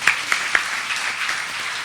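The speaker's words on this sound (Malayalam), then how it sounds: "കൈയടിച്ചേ" A congregation at a Saturday retreat at Mount Carmel claps together in a brief, even wash of applause, with a few sharper individual claps standing out near the start, and no one speaking.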